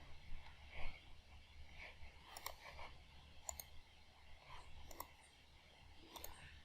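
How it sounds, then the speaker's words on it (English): Computer mouse clicks in quick pairs, faint and close, repeating several times over a quiet background. "Again double click on this one."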